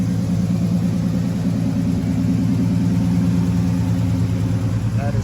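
A 1987 Oldsmobile Cutlass 442 engine idles steadily with a low, even rumble, loud and close, running smoothly without rattles for the whole stretch.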